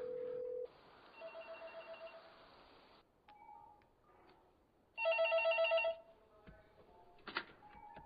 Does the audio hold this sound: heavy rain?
no